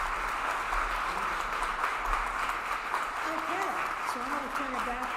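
An audience at a disability mentoring day kickoff reception claps in a steady, moderate spread of applause, while a person talks over it throughout.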